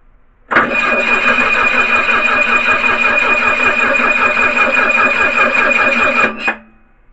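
An OMC GM marine engine fitted with a new starter cranks and catches, running loud and steady for several seconds before cutting off abruptly.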